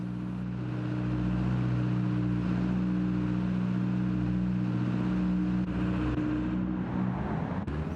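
A Lancia Delta HF Integrale rally car in Gran Turismo 7 pulls out of the pit lane, its engine holding a loud, steady drone with a strong harmonic hum that stays constant from start to finish.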